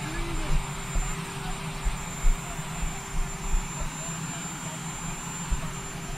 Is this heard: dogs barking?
no